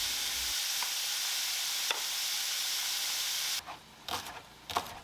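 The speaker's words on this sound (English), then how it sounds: "I'm going to sear this steak on all sides" A steak sears in a hot pan with a steady, loud broadband sizzle that fills most of the clip, then breaks near the end into uneven spitting bursts. No one talks.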